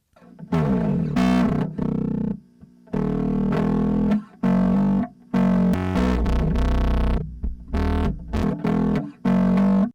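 A distorted bass guitar plays short, punchy phrases separated by brief gaps, with a thick, gritty, saturated tone.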